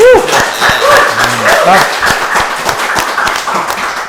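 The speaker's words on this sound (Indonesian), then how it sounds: "Lagi-lagi tepuk tangan" Applause from an audience at a talk show on Jakarta's finances and Betawi culture, crisp clapping running under loud, overlapping talk and laughter close to the microphone.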